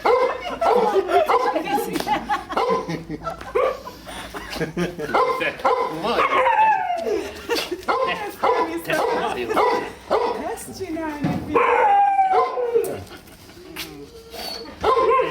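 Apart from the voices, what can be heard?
Akita dog barking and howling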